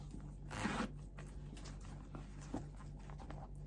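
Zipper on the inside pocket of a knitting bag, a flapped pocket, briefly pulled open in one quick rasping stroke near the start, followed by faint handling rustles and a small click, close and fairly quiet over a steady low hum.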